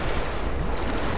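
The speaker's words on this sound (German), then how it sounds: "Jetzt geht das Wasser wieder hoch." Rushing water surges and washes steadily in Rise of the Tomb Raider as the water level rises, a dense, continuous roar with no voices over it.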